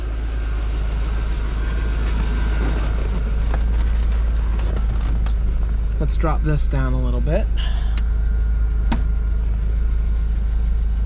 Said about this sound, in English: I'm gonna let the car warm up a little bit before I do any revs